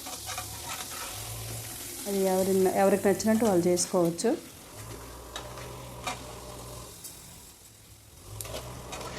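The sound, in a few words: tempering sizzling in ghee while stirring the pan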